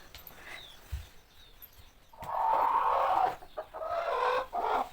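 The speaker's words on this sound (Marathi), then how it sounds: "आता मी खुडूक बसलेली कोंबडी आणून ठेवते।" A broody hen settled on a clutch of eggs gives low, throaty clucks, a few soft calls, then longer grumbling bursts that rise and fall, close by in a quiet rural setting.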